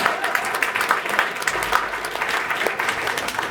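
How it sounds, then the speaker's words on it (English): A jazz concert audience at a distillery venue applauds, steady dense clapping from a crowd held at even strength throughout, moderately close. "Give them a round of applause."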